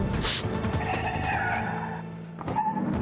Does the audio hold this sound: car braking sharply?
yes